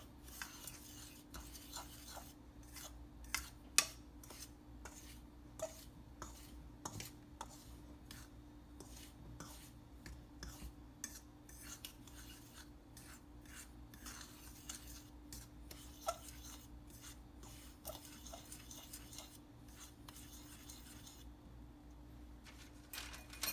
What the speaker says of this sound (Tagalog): We just have to make sure that it's mixed thoroughly.